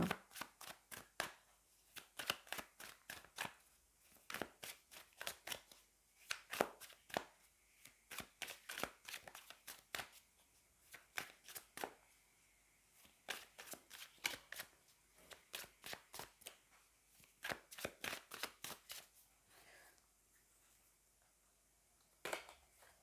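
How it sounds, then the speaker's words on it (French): Tarot cards are shuffled and drawn for a reading, producing rapid riffling slaps in repeated close, quiet bursts with short pauses between them, with no voices. "on va prendre deux cartes"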